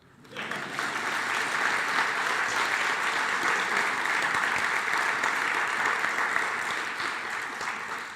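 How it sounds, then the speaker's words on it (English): Sustained applause from an audience at a college alumni honors fireside chat fills the space, steady and even from start to finish before tapering slightly. "I thought that would get some applause."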